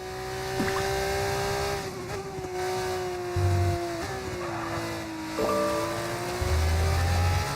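A Formula 1 car in the F1 25 video game screams at high revs, its pitch dropping and climbing through gear shifts with tire squeal, loud and continuous, no talk.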